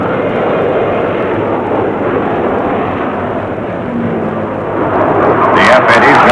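An F-80 jet fighter roars overhead during the Korean War, a dense, rumbling engine wash that stays loud and steady, with a narrator's voice partly laid over it.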